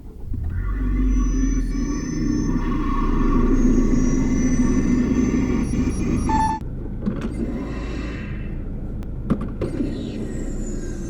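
A Zeonic special edition Toyota Auris runs with a low, steady engine rumble close by. Faint electronic tones sound over it, then the sound shifts abruptly partway through and settles into a quieter hum.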